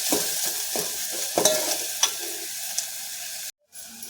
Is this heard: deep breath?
no